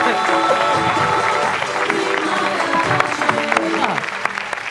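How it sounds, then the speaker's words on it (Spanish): An audience at a live comedy show claps loudly and steadily for a performer named Cándida, with a few voices and crowd noise mixed in under the applause. "aplauso para Cándida."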